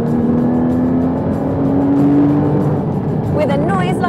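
A 2015 Porsche Cayman GT4 engine revs loudly up through its range, a smooth, rising mechanical howl heard close, with a voice briefly speaking near the end.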